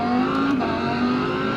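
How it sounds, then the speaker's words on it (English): Race car engine from the iRacing sim, a Mercedes GT3, droning loud and steady with a rising and falling rev tone throughout, close and continuous with no talk. "Engine noise sounds pretty cool."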